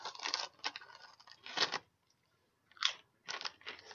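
Walkers crisps crunch in close, loud bursts of chewing, several crisp mouthfuls separated by short quiet gaps.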